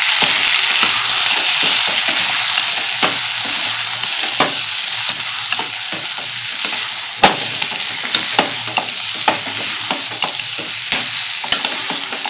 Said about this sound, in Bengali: দিয়ে এবার এটাকে আমি খুব ভালো করে নেড়ে দেবো।